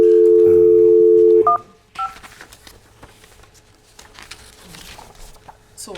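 A telephone hums with a loud steady dial tone, then a few quick keypad tones sound as a number is dialed in a meeting room. Quiet room noise and faint rustling follow.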